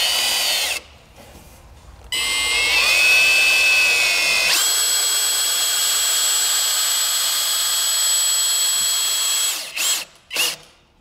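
A power drill drives countersunk screws into wood, whining loudly at steady speed with pitch shifts as each screw seats. Short bursts come before and after a long continuous run, with no talking.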